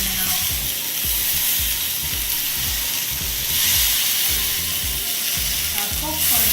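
A Vietnamese rib-eye steak sears on high heat with a loud, continuous sizzle and hiss, close up, steady for several seconds with low thumps and clatter underneath.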